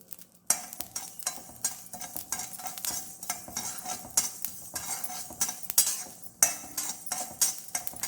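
Mustard seeds popping and crackling in hot oil, a dense scatter of sharp clicks over a steady sizzle, with occasional clinks of a utensil stirring the pan.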